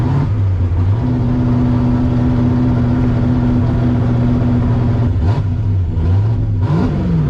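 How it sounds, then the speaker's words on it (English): A turbocharged Oldsmobile Cutlass with a 5.3 V8 revs steadily at high pitch, holding a sustained drone before the pitch dips and climbs again near the end. "when you're revving it, it's going to 70"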